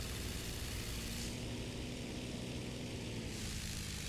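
A friendly military propeller plane flies nearby in the video game War Thunder. Its engine drones steadily and loudly through the whole clip, with nobody speaking.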